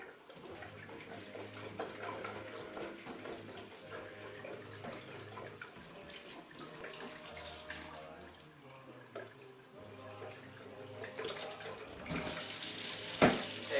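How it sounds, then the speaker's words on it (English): Water runs steadily through milker hose lines while dairy bottling equipment is washed, a continuous tap-like rush and splash with a brief louder burst near the end. "we take the milker hose and we run water through the lines."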